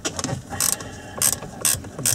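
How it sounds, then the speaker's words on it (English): A size 10 ratchet spanner with a Torx 30 bit loosens a screw on an Audi A4 B6 steering wheel control module, giving four or five crisp, close ratcheting clicks at a regular pace. "ratchet spanner."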